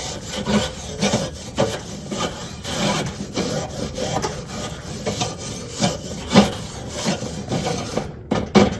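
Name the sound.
scrubbing surface rust off a copper Weber grill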